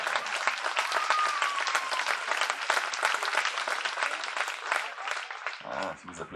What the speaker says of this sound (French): Vas-y, applaudis quoi.